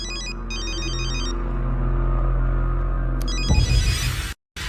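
A phone ringtone repeats in steady electronic bursts, loud and close, then cuts off partway with a brief rustle and a short silence.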